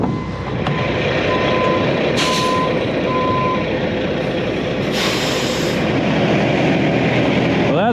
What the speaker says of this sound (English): Here's our gravel truck.